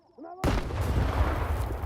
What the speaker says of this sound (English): Can I throw a grenade?